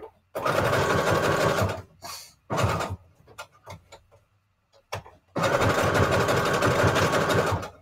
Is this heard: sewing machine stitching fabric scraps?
yes